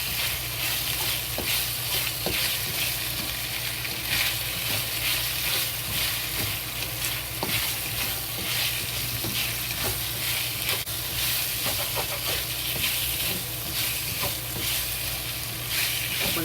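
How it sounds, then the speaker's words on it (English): Chili sauce fries slowly in hot oil in a wok while being stirred, for salted fried pork slices, giving a steady, close sizzle with soft scraping stir strokes running through it and no voices. "Slowly fry this chili sauce"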